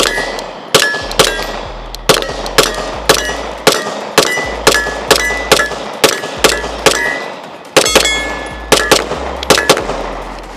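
A Recession Ruger pistol with a compensator and an Acro-footprint optic fires about fifteen loud, sharp shots in a steady, evenly spaced string, each crack ringing briefly, close to the listener with no talk.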